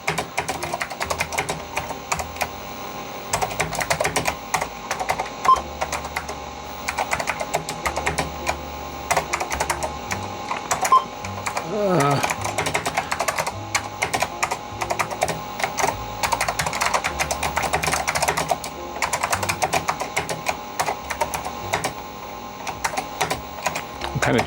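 Keystrokes clatter on the unfamiliar keyboard of a Sanyo MBC-16 Plus computer, an irregular run of close clicks and taps going on throughout, with hum and other background sound beneath.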